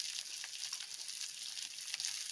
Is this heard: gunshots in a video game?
no